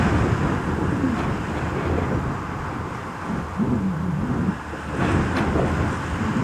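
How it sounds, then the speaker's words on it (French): Strong, constant wind blows over Kolmanskop ghost village in the Namibian desert, a steady, loud roar of buffeting gusts against the microphone with no voices. "Le vent fort et constant a pris possession du village."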